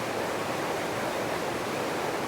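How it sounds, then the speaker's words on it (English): Whitewater rapid at Nam Tok Wang Hin waterfall in Khao Sok, Thailand, a steady, dense rush of water that fills the whole moment at an even level, close and continuous with no other sounds. "It looks like it's just a whitewater rapid."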